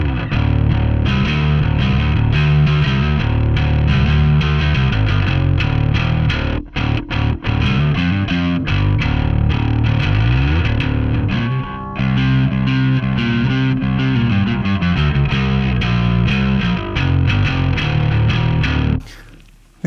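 An instrument played through a Softube Amp Room SD1 Ampeg preset gives a clanky, mildly overdriven tone, loud and continuous for about twenty seconds with a few brief gaps, ending abruptly.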